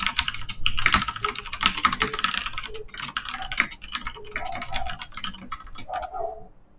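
Steady, fairly quiet typing on a computer keyboard while entering text into Notepad++, a continuous patter of key clicks at an uneven rhythm throughout.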